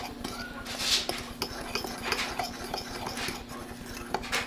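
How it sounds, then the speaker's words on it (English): Fork whisking dry baking ingredients, cinnamon among them, in a bowl: quick repeated scraping and light clinking strokes at close range, steady and continuous over a low background hum. "I don't have a whisk, but I'm going to use a fork."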